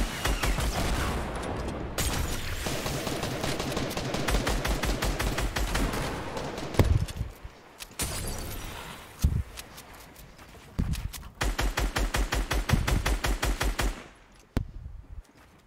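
Rapid bursts of automatic gunfire from a Fortnite match, loud and close, with repeated rattling volleys broken by short pauses and a few single shots near the end.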